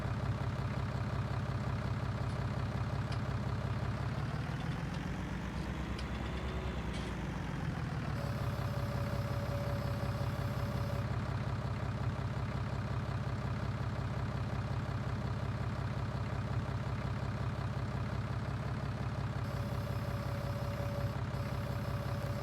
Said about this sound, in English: This is my trusty old Fendt favorite, my front loader tractor.